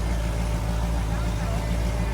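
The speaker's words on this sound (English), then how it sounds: "And here comes the Cadillac CTSV." Loud, close engine roar of a Cadillac CTS-V street car accelerating at a Street Car Takeover drag race in Bristol, a heavy steady rumble filling the brief moment.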